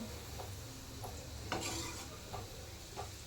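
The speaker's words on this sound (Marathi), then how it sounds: "मंद आचेवर तळत आहे" Gulab jamun balls frying gently in oil on low heat, a soft steady sizzle with occasional stirring scrapes and light clinks from a utensil, quiet and close with no voices.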